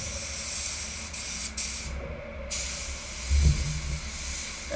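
A spray gun lays metallic base coat paint over a car's quarter panel near the bumper and tailgate, a steady close broadband hiss that runs nearly unbroken, with brief gaps as the trigger is released.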